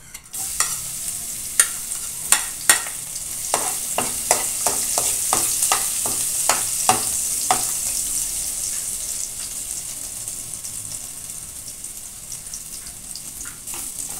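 Garlic sautéing in hot oil for a vegetable dish, a bright continuous hiss under a run of sharp spoon taps and scrapes on the pan early on that thin out later, close and steady, with no talking.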